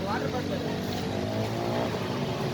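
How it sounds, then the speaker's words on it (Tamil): A single-phase 1 HP open well motor runs steadily close by, giving a loud, continuous droning hum with no breaks. "சிங்கிள் ஃபேஸ் அதாவது 1 HP ஓப்பன் வால் மோட்டர் எடுத்துகிட்டு இதை மாட்டி விட்டேன். ஓடிக்கிட்டுருக்கு."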